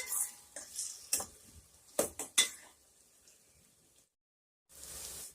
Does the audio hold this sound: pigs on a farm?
no